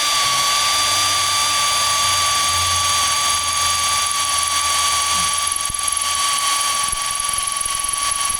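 A rosebud torch roars steadily as it heats the cast iron flywheel of an old Asplundh wood chipper, a loud continuous hiss with a faint high whine that holds for over eight seconds.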